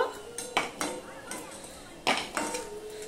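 Fried lentil dumplings being lifted from a pan produce a few sharp metal clinks and scrapes of a utensil against cookware, spaced irregularly with quiet gaps and no talk.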